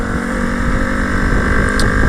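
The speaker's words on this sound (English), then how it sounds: "I can literally full throttle this, wide open throttle, every single gear" Honda Grom motorcycle held at wide open throttle, a loud, steady buzzing engine drone heard up close with constant wind rush, no talking.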